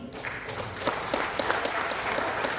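An audience at a Hindi comedy poetry recital (kavi sammelan) applauds with steady, moderately loud clapping, heard from within the crowd and continuing throughout.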